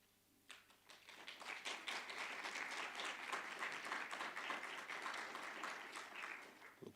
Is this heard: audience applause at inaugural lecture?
yes